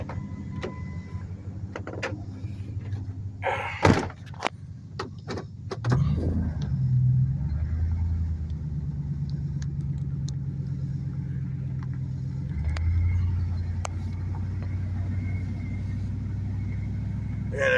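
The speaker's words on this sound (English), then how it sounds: "We'll go ahead and pull it up here in front of the garage." A 1998 Ford F-150 pickup truck rolls up to a garage, its engine idling as a steady low rumble, then rising into a louder, fuller drone as it pulls forward. A few sharp knocks and clunks come early on.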